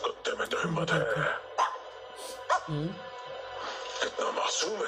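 A dog barks and yips in a few short bursts, mixed with whimpers, heard close amid people talking in a film scene.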